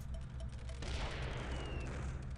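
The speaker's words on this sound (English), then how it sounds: "they'll be shooting their cannons like freaking 12 times" Cannons boom in the video game Rayman 2, a sudden burst of bright, crackling blasts layered over constant game background noise, fairly loud and continuous for a couple of seconds.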